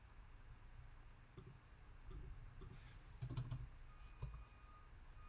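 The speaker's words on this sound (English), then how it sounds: "I have to type it here for some reason." Quiet, close typing on a computer keyboard, with a few short bursts of soft key taps and clicks over a faint steady background hum, and no talking.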